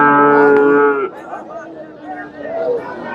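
A Sahiwal heifer calf gives a loud, sustained moo at the Chandaikona cattle market in Sirajganj. Then the moo breaks off into a steady hubbub of crowd chatter and talk.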